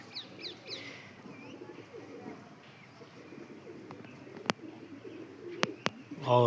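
Soft, low coos of black Cheena pigeons repeat nearby over a quiet background, with a few sharp knocks and brief chirps toward the end.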